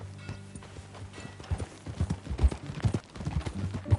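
Horse hooves clip-clop at a steady riding gait in Red Dead Redemption 2, a rhythmic, moderately close pattern that builds in strength over a few seconds, with no talk.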